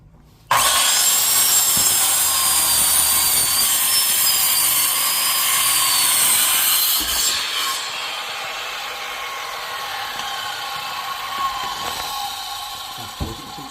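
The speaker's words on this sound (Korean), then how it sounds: "절단기를 이용해서 한꺼번에 4장을 같이 자르는 거죠" A cutter slices through a stack of four laminate flooring planks at once, giving a steady, close rasping grind for several seconds that eases off toward the end. No one talks.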